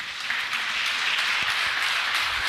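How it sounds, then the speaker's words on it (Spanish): A church congregation breaks into steady, brisk applause, a dense wash of many hands clapping evenly at close range for a couple of seconds. "Denle el aplauso a Jesús."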